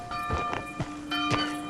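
Church bells ring in a village inside a video game, with a few broad, resonant strikes repeating over a sustained tonal hum and light background noise.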